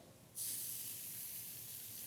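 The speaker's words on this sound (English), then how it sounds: "now you're going to hear it sizzle" Coffee-rubbed skirt steak hits a salt slab heated to 500 degrees and bursts into a loud, steady sizzle that starts suddenly and holds with a bright hiss.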